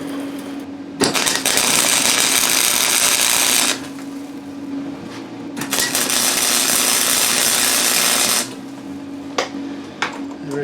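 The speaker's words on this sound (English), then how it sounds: "See if my welding is any better." Welding a washer to a flange on an MTD Carrier: two long steady bursts of crackling, buzzing arc noise, loud and close, separated by a quieter gap with a low hum, with no talking.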